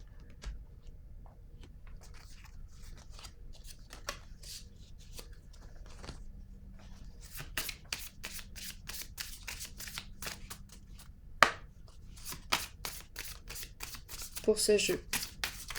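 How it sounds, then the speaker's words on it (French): Playing cards are shuffled and drawn in a quiet room, with repeated crisp riffling bursts and flicks that grow denser toward the end, while a person speaks in French. "Attendez, je vais piger une carte noire."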